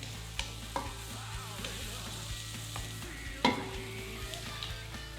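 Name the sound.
garlic and peppers frying and stirred in a pan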